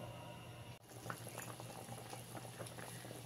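Prawn curry liquid bubbling steadily in a pot over a gas flame, a continuous close simmer with scattered small pops and a brief dip near the start, no voices.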